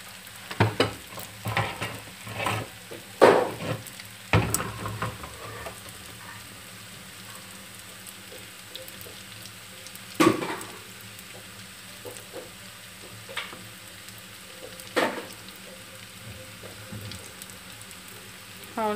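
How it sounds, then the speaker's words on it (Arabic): Sesame seeds stirred and fried in oil in a pan, with scattered scraping stir strokes and soft crackling over a quiet, steady background. "نحركوا هكا باش الزيت يخلط لكل البلايص كلها"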